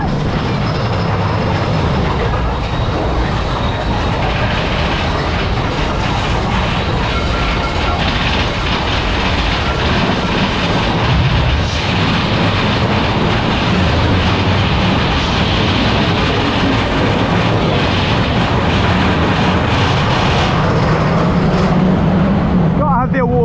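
A very noisy lift at Disneyland Paris rattles and rumbles loudly and steadily throughout, a dense broadband mechanical din with clattering like a rail car that holds for the whole stretch, with a voice heard faintly under it.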